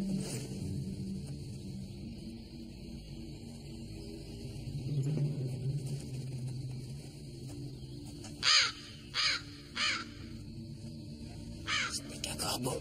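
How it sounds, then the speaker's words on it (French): A crow caws three times in quick succession, loud and fairly near, after a stretch of quiet outdoor ambience with a steady high insect-like whine, then a fainter fourth call near the end. "Ce n'est qu'un corbeau. Je déteste ces corbeaux."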